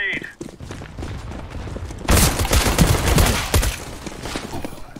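Video-game gunfire erupts in a sudden dense burst of rapid, loud shots after a quieter stretch of scattered hits, with players talking over the action.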